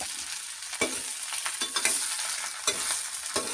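A spoon stirs a kanthari chili pickle mixture frying in a pan, steady soft sizzling broken by several distinct scraping strokes against the metal, close and fairly quiet, with no voices.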